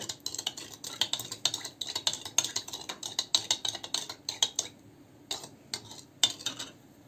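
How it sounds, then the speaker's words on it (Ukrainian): A spoon stirring to dissolve salt and sugar, rapid clinking and scraping against a container in quick rhythmic strokes, then pausing and resuming with a few isolated taps, close and clear. "розмішуємо, щоб розчинилась сіль та цукор"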